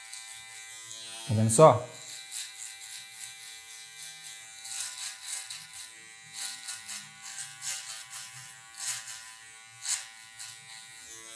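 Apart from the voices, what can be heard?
hair trimmer cutting afro hair for a mohawk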